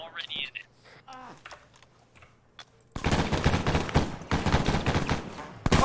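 Enemy machine gun fire in the military shooter Arma 3, a sudden loud burst of rapid crackling shots after a quiet stretch with faint sounds, close and sustained.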